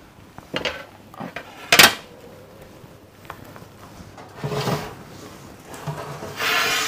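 Baked choux pastry shells are lifted off metal baking trays to cool, giving a run of clattering metallic knocks and scrapes, with a sharp loud clank near the start and rattling tray handling later, heard up close with no talk.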